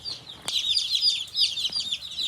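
Meat chickens in a greenhouse pen over wood chips keep up a busy, close chorus of high chirping clucks and peeps, with a couple of sharp knocks in between.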